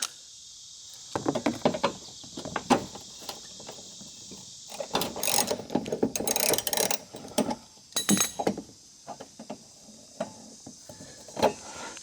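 A ratchet works loose a tail light bolt on a Honda Accord, producing scattered bursts of close metallic clicking and clinking with pauses between strokes.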